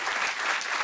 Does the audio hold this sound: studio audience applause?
yes